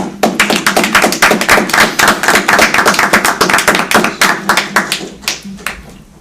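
A small room of people at an East Amwell Township Committee meeting claps for Andrea, a steady patter of close hand claps that thins out near the end.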